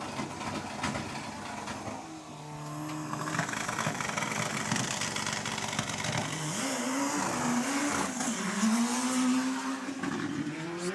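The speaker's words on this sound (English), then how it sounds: "It's nice just to listen to a bit of that every now and then, a little bit of launch control." Race car engine at a live enduro short-course racing event revving hard on launch control, a loud sustained roar with rising pitch sweeps and crackling, steady and close throughout with no talk.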